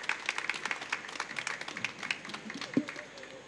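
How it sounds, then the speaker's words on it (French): Thin, scattered clapping from a modest audience closing a conference on building-trade crafts, fairly quiet and uneven, with a few louder claps and faint background voices. "On peut les applaudir."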